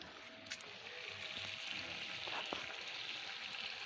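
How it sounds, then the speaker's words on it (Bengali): Egg and potato curry bubbling and sizzling in a wok, a soft continuous simmer with small pops and stirring sounds, fairly quiet and close, with no voices. "ডিমের ঝোল টকবক করে ফুটছে।"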